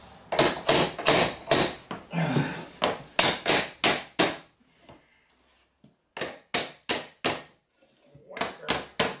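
Sharp hammer blows strike a pull bar to knock vinyl plank flooring together, landing in quick rhythmic bursts of several hits, pausing briefly, then resuming, loud and close.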